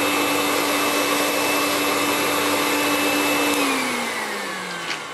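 Miele S7 vacuum cleaner runs without its exhaust silencer, a loud steady airflow roar with a whining tone that winds down slightly near the end, close up.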